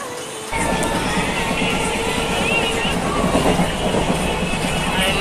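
At Kokrajhar railway station, a train rolls in with steady rumbling and clattering wheels over rails, loud and close, while the platform crowd murmurs in the background.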